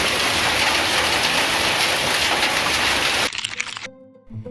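Large hailstones pelt down in a loud, dense, continuous hiss and clatter, then break off abruptly into scattered impacts and quieter sounds near the end.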